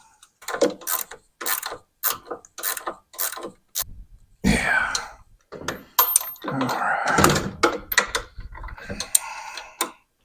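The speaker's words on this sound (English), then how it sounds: "I don't know who invented the ratcheting wrench, but I'd like to meet that dude" A ratcheting wrench turns a bolt on a Harley Road King motorcycle, producing repeated bursts of quick mechanical clicking with short pauses between strokes and a longer rattling run near the end.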